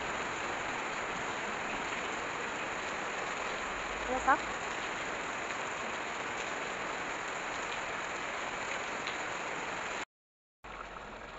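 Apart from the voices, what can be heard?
heavy rain falling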